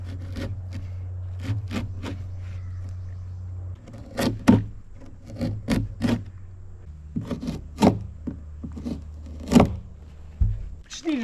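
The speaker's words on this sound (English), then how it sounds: "Might be able to just shave it down with the blade." A blade shaves down wood to fit a recessed foot pedal on a Bass Tracker boat, making short intermittent scraping strokes over a low hum while a person talks.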